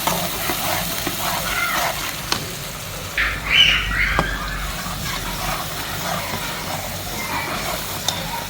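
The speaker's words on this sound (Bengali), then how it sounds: "মশলাটা একটু ভালো করে ভুনে নিব আমি।" Stirring and sizzling of a paste of onion, green chilli, coconut and poppy seed being sautéed in a pan, a continuous close frying hiss with scraping strokes and a few brief clinks.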